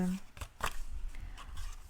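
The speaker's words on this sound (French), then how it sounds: "quand on prend une paire de ciseaux" Scissors cut through scrapbooking paper in a few quick, crisp snips, partly mixed with a person talking nearby.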